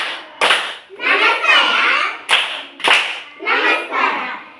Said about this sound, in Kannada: ನಮಸ್ಕಾರ ಚಪ್ಪಾಳೆ.